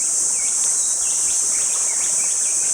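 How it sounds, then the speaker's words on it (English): Loud, continuous high-pitched cicada buzzing near the ruins of an abandoned British garrison settlement, a steady drone with faint bird chirps scattered over it and no talk. "Like here's cicadas."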